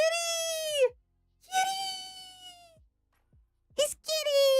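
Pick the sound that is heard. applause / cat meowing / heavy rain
cat meowing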